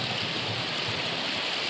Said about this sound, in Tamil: தண்ணி வேகமாக அடித்து பாய்ந்து கொண்டிருக்கின்ற ஒரு நிலைமையை காட்டுகின்றோம்